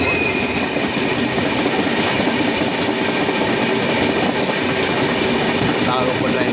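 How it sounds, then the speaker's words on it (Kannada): A Talaguppa passenger train at a railway junction in Karnataka, steady loud rumble and clickety-clack of wheels on rails throughout, continuous and close. "ತಾಳಗುಪ್ಪ ಟ್ರೈನ್ ಇಲ್ಲಿ ನಿಂತ್ಕೊಂಡೈತ್ರಿ"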